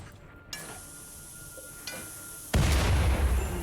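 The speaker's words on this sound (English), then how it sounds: "the turret blew up and destroyed his heart" A turret explodes in the RimWorld video game: faint clicks and a small pop lead into a sudden loud, crackling blast that holds as a rumbling roar to the end.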